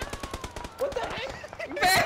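A Tommy gun fires in quick bursts during a multiplayer shooter video game match, rapid repeated shots ringing out loud and close, with other game effects and voices talking over parts of the action.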